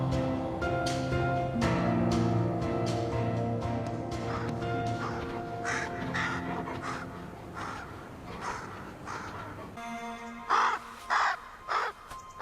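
A crow caws repeatedly near a wolf in the wild, harsh calls spaced irregularly over a steady background, growing sharper and closer toward the end.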